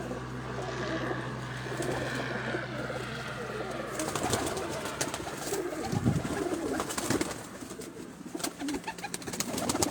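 Pigeons coo in a loft of old, large birds bred in Gujrat, the soft calls repeating under someone talking nearby, with rustling and a brief flutter of movement in the second half.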